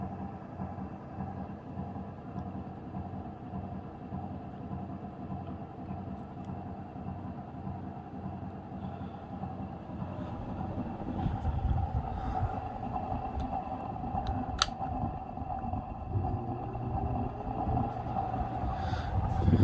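Antique Westinghouse Sidewinder 56-inch ceiling fan running at speed, a low steady motor hum and airy rumble that slowly grows louder, with a few faint ticks and no talking.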